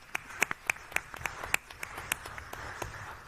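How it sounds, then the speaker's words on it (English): A small group in a room at a COVID-19 roundtable gives a round of applause: sparse, distinct individual claps at moderate distance, fairly quiet and irregular, with no talk over them. "I think that's actually worth a round of applause to everybody here."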